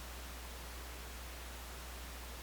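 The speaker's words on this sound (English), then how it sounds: "So just some standard white noise." Steady hiss of white noise from a Serum synth noise oscillator, even and unchanging throughout, with a low hum underneath and nothing else.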